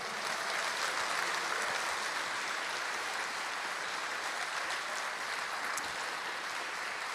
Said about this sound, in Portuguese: aplauda Ele com força